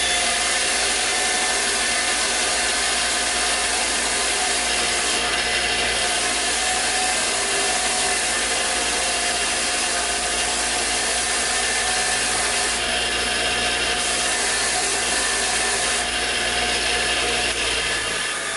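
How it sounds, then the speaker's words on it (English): Continuous steady whir and grinding of a bench wire wheel cleaning Cummins 6.7 diesel engine bolts, loud and close throughout without pause. "what I am gonna do with all these bolts is I'm gonna take them to the wire wheel"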